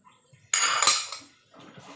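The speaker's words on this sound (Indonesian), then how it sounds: "suara apa itu? Malah banting piring." A sudden loud clatter of plates and dishes banging together, one sharp crash that rings briefly and fades, followed by softer rattling, close and with no talk.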